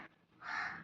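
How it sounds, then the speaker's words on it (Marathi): A crow gives a single harsh caw, fairly close and clear, after a short faint call at the start. "तो सगळी येत नाही तोपर्यंत तो काय काव काव करायचं थांबत नाही."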